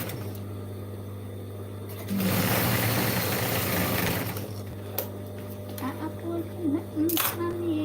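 A sewing machine stitching thick denim for a jeans bag: a short loud burst of running stitching about two seconds long, followed by quieter handling clicks and noises.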